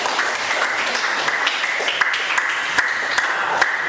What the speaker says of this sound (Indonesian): sebelum mulai kita berikan aplaus dulu